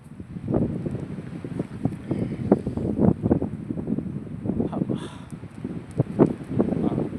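Strong wind buffets the microphone outdoors in a steady low roar with repeated gusty surges, loud and close throughout.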